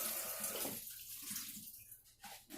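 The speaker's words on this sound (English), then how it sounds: "you just put her under the faucet and you let it run for about 30 seconds after the water starts draining out" Tap water runs steadily from a faucet over a house plant potted in Leca, a close, continuous splashing wash with slight gurgles near the end.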